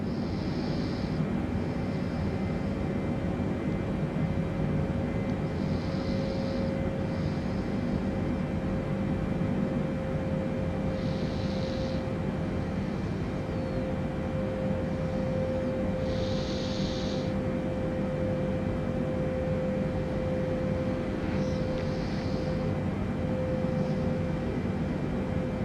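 Steady, even engine drone of a Boeing 747-400 in Microsoft Flight Simulator 2020, a constant hum with a faint high tone running throughout and a few brief soft chirps, no talk.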